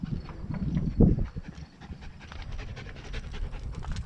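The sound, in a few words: puppy panting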